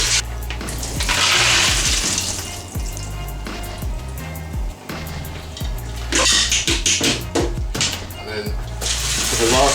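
Warm water runs from a tap over peas in a colander, a steady broadband splash with clattering bursts as the peas are shaken and stirred, a voice talking intermittently over it.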